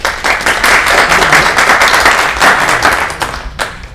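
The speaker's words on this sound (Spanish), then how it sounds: "Un aplauso." Loud, dense applause from an audience after a talk, many hands clapping at once close by, dropping off near the end to a few scattered claps.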